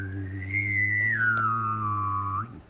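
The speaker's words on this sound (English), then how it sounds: "Advanced whistling, you can do this." A single sustained human whistle holds a high note, then slides smoothly downward before stopping, over a steady low hum.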